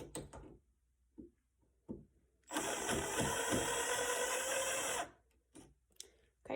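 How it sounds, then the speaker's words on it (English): A power drill backing out the latch screws of a door knob gives one steady, high whirring run of about two and a half seconds, close by, framed by small clicks and handling knocks before and after. "this is where a drill comes in handy, especially because you can get to these screws much easier"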